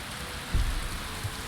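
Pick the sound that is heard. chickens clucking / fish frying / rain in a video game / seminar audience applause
rain in a video game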